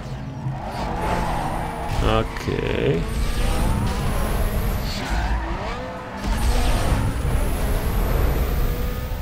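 Nissan Skyline R34 in NFS Underground 2, its engine revving and tyres skidding and squealing continuously and loud, with one brief dip in the middle, while someone talks over it.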